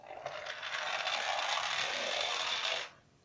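A 3D-printed windup toy car runs across the floor, giving a steady whirring, buzzing gear rattle for nearly three seconds close by before it stops abruptly.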